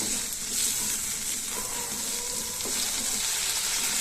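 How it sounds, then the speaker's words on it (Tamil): Chopped tomatoes are sautéing in a hot pan while making a bottle gourd dish, giving a steady close sizzle and frying hiss with light stirring scrapes and no talk. "இப்போ தக்காளியையும் லைட்டா வதக்கிக்கலாம்."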